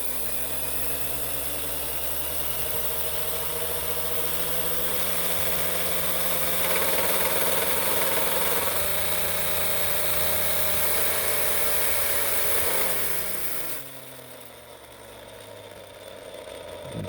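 The motor of a homemade vehicle runs with a steady mechanical whine and hum, rising slightly before the drive drops off abruptly near the end as the gears slip and lose their grip.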